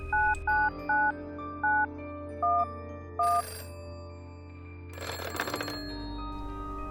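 In the video game Bad Dream: Coma, six short two-tone payphone keypad beeps are dialed in sequence, then a bright electronic ring bursts in and a low hum fills the end.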